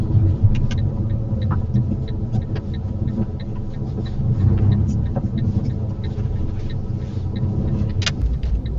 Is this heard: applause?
no